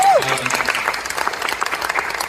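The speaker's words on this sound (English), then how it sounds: "a round of applause for the extended" Applause from an audience at a Sports Hall of Fame induction ceremony, steady broadband clapping across the whole stretch, with a brief voice at the very start.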